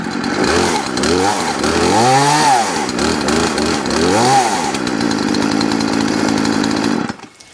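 A Craftsman chainsaw engine runs loudly and steadily, revving up and down in a few surges before cutting off abruptly at the end.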